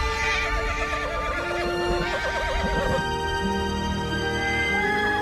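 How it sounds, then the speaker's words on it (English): Wild horses neigh and whinny repeatedly, loud and close, with a busy herd background and occasional hoof clatter, as the herd enters a wetland. "Urged by its neighs and calls, the herd finally enters the wetland"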